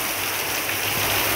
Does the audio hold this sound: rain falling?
yes